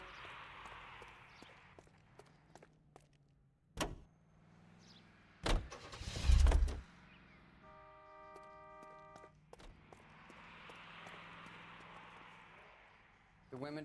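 A car in the video game L.A. Noire: a low engine hum runs throughout, broken by several sharp door thuds and clunks in the middle, with quieter bits of other game sound around them.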